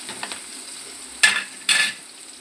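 Green chillies and onions sizzle in hot oil, a low steady crackle broken by two sharper scraping stirs of a spatula against the pan.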